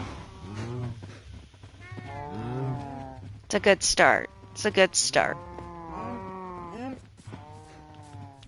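Cows in Minecraft Bedrock give several loud, drawn-out moos in a farm pasture, one overlapping another, while someone talks casually in between.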